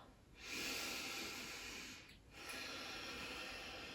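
A deep, slow breath during a gentle yoga session: a long, close, airy draw of breath, a brief pause, then a second long breath, soft and alone.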